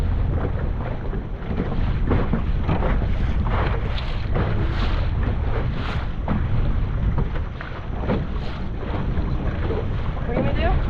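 Strong wind buffets the microphone aboard a blue crab boat on a snowy winter day, a loud continuous roar with gusty swells throughout, and faint voices partly buried beneath it.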